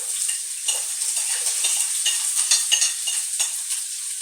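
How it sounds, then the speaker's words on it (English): Chopped onion hitting about three tablespoons of hot olive oil in a pan for beef stroganoff, giving a steady, close hiss with brief scraping stirs throughout. "So what I'm going to do now is to put my onion in."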